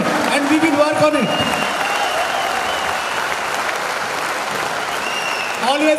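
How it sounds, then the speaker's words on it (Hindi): Audience applause at a motivational business seminar, a dense sustained clapping that fills the whole stretch at steady loudness, with voices speaking over it at the start and end. "एक बार तालियां बजा के बताइए कि हम इसका पालन करेंगे"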